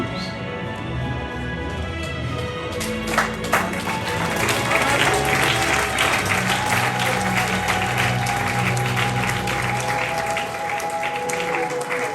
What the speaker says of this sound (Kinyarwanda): tube twishimye tuvuza impundu dukoma no mu mashyi